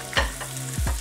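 Garlic, ginger and onions fry in hot oil in a brief burst of close sizzling, with a sharp hiss at the start and a couple of soft low thumps near the end.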